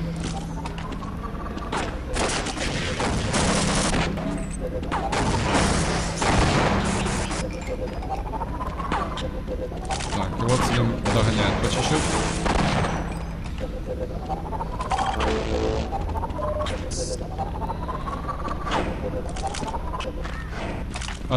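Rapid gunfire from a Gauss gun in a shooter video game, repeated shots and booming impacts throughout, with a commentator talking continuously over the action.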